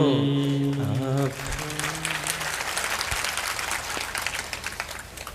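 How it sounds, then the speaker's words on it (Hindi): An audience at a Hindu religious discourse claps steadily after a short sung or musical phrase ends, a broad continuous patter of many hands that carries on to the end. "आज ताली बजाने में आप अलर्ट हैं।"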